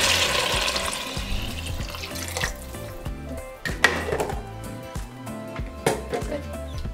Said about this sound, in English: And I'm going to add about 9 cups of water.